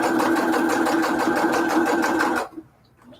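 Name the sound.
sewing machine sewing a straight stitch on a junk journal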